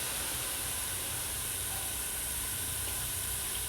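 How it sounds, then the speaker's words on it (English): Boiling chana cooking water poured into a pot of curry chicken, giving a steady broadband steaming hiss and soft watery rush that holds evenly throughout, fairly faint and close with no voices. "We're gonna go ahead and add in the water that was boiling with our chana."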